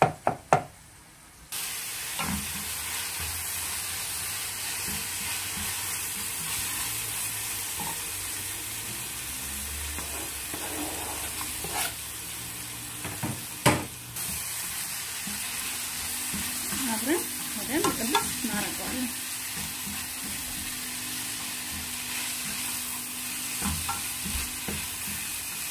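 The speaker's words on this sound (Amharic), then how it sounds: "ይሄኛውን ደግሞ ከሽንኩርቱ ጋር እንጠብሰዋለን፣ እንቅለዋለን ማለት ነው።" Onions and meat frying in a pan for an Ethiopian collard greens and meat dish, a steady sizzle broken by occasional stirring scrapes and knocks of a utensil, heard alone without talk.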